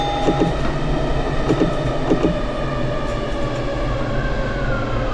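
A JR East Yamanote Line train in a train simulator game, running with a loud, steady rumble and hum, a faint whine and occasional light clanks, with no talk.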